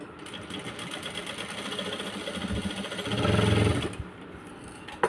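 A sewing machine runs fast while stitching a dart on the front part of a blouse, a steady mechanical whirr that grows louder near the end, then stops.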